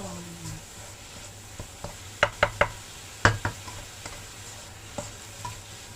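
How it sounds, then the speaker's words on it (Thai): Northern Thai fish larb dry-roasting in a pan, with a soft steady sizzle under several sharp scrapes and taps of a utensil stirring against the pan, close up with no talking. "เสร็จแล้วเดวจะคั่วให้แห้งอีกนิดนึง"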